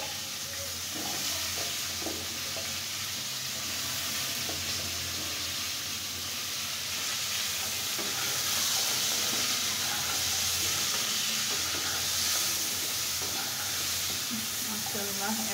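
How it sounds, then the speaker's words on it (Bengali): Cauliflower fries in a pan of hot oil, giving a continuous close sizzle and hiss with occasional stirring scrapes throughout. "এখন আমি ফুলকপিগুলোকেও ভেজে নেব"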